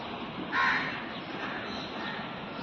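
A crow gives a short, harsh caw partway through against a steady outdoor background hum, with only a single clear call standing out and no one speaking.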